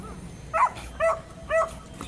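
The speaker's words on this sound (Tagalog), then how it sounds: "may tinali pang aso dyan" A tied-up dog gives three short, sharp barks at an even pace, moderately close, over a quiet background.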